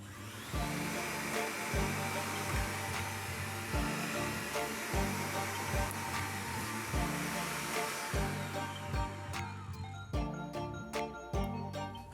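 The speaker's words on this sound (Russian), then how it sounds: "Либо воспользоваться соковыжималкой, чем я сейчас и займусь." Electric juicer pressing onion juice, a steady close whirring motor hum with rhythmic low pulsing, ending in a few sharp clicks and clatters as it stops, with no voices.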